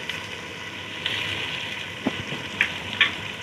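Onions frying in a pan for potato katli, a steady soft sizzle heard alone with a few brief clinks or stirring sounds near the end.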